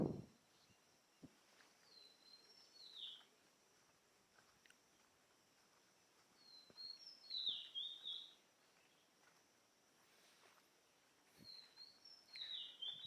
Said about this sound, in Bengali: চারিপাশে নানা ধরনের পাখি কিন্তু ডাকছে